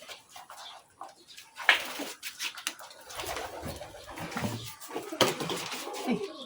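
Soft pigeon coos come and go amid splashing water and clinking, with a voice speaking briefly nearby.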